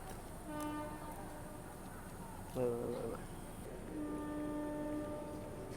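A passenger train pulls out of a station in rural Uttar Pradesh, sounding two sustained horn blasts, one early and one later, over a low rolling rumble and a brief mechanical clank between them.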